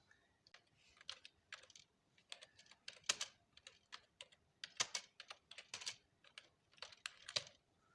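Text typed on a computer keyboard, irregular bursts of soft key clicks with occasional sharper taps, close and fairly quiet, continuing for several seconds without talk.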